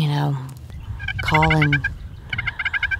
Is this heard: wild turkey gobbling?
yes